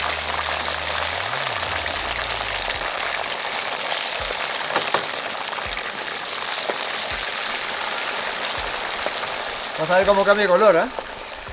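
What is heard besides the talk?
cassava (yuca) pieces deep frying in oil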